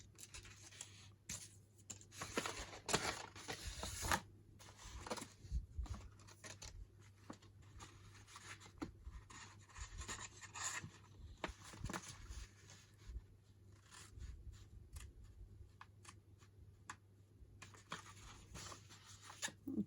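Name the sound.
scissors cutting paper for an envelope journal cover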